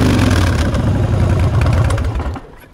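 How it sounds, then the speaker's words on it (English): A black Harley-Davidson Street Bob with Vance and Hines slash-cut exhausts gives a loud, close, rumbling throttle blip that holds for a couple of seconds and then fades away. "Just to give you a quick blip of the throttle."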